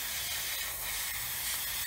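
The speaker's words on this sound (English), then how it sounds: "I'm spraying at such a low pressure" An airbrush sprays primer paint at low pressure onto a 1/35 scale HobbyBoss Land Rover model, giving a soft, continuous airy hiss that stays close and steady the whole time.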